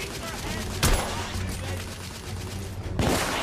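Shotgun blasts in the video game The Order 1886: two sharp, loud booms a couple of seconds apart over a busy battle bed of rumble and background noise.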